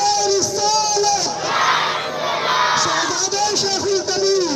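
At a madrasa graduation celebration in Burhanpur, a big gathering roars its reply to the Nara-e-Risalat slogan in loud, sustained unison, many voices close and overlapping with a leader's call rising through.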